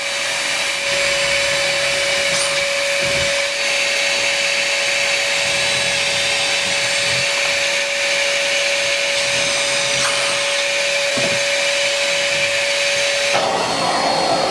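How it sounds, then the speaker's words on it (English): A wall-mounted dust collector vacuum with fleece and pleated filters runs loud and steady, a constant whooshing roar with a strong tonal whine throughout. "All the dust falls in here like a funnel and it sucks it in to the vacuum"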